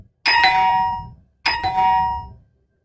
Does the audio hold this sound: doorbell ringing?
yes